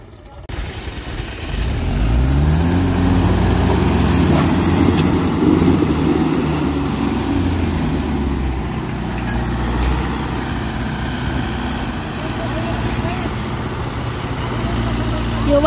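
Mahindra 575 and 585 DI tractor diesel engines pulling a trolley, a loud, steady low rumble that runs nearly the whole time with no sharp changes, and people talk over it in the background.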